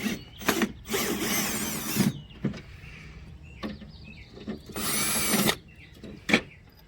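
A Phillips screwdriver backs screws out of an aluminum automatic pool cover, giving several short whirring bursts with clicks and pauses between them, fairly faint and close.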